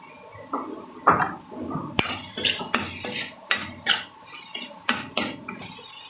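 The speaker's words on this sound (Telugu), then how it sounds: "కొద్దిగా మగ్గినాక ఇప్పుడు పచ్చిమిర్చి వేసేస్తాను." Green chillies go into a pan of amaranth curry: a couple of soft drops are followed by a spoon scraping and clinking against the pan in a steady, close rhythm of about a dozen metallic taps.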